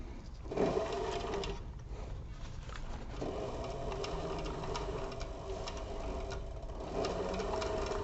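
A sewing machine stitches a leather crossbody bag, running a steady, continuous whirring line of stitches up close, with faint ticking and no voices.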